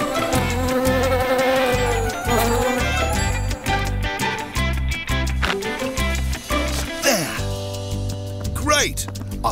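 Cartoon bees buzzing as they are loaded into Postman Pat's van for a move to a new home, a steady insect drone under lively background music.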